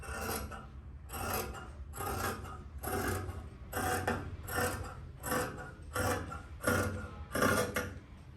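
Cloth for churidar dresses is cut in a stack, giving a repeated rhythmic rasping burst about once per second, close and fairly loud, with no talk.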